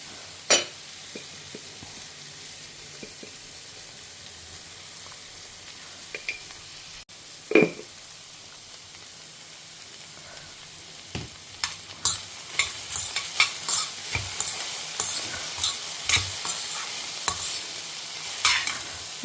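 Okra sautés in a pan for a home-cooked lunch. A soft sizzle runs underneath, with a few scattered spatula scrapes at first, then a busy stretch of repeated stirring clatters in the second half.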